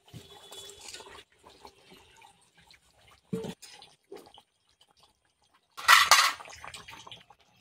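Chela fish pieces drop into a simmering spicy curry with eggplant and potato, giving faint bubbling and small wet plops, then a louder splash and sizzle near the end, close by.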